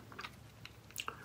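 Close, quiet chewing of Warheads Ooze Chewz sour fruit candy ropes, with a few soft wet bites and crunches spread over a brief moment, alone with no talking.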